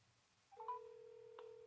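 A phone line ringing after dialing in to a live stream call: a single sustained electronic ring tone starts abruptly and holds steady, fairly quiet and clear, with a brief click partway through and no talking.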